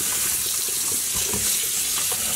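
Water running steadily from a tap for soaking freshly dyed black yarn, a continuous close hiss and splash with faint shifting gurgles and no talking.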